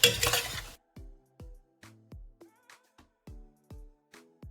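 Diced medium red tomatoes being stirred in a pan, a brief loud sizzle at the start followed by a series of spaced, ringing clinks and scrapes of a utensil against the pan, close and alone.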